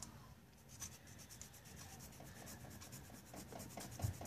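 A metal file rasps against a part of a project car near the rear axle, giving a steady, close scraping texture throughout with faint rhythmic strokes and no talking.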